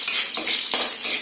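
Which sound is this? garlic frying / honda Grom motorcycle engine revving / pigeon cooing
garlic frying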